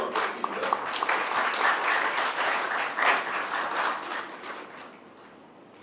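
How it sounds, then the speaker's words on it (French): An audience at the general assembly of Guadeloupe's regional Olympic sports committee applauds the island's swimmers, giving about six seconds of steady, dense clapping from a crowd at moderate volume that fades slightly at the end. "des applaudissements exceptionnels pour la natation de la Guadeloupe"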